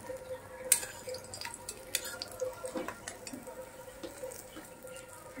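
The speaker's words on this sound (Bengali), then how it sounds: "ডিম মাখানো হইতেছে সুন্দর করে।" A spoon works through an egg mixture with green chilli and onion in a pan, making repeated soft scraping and clinking strokes with a faint sizzle running underneath.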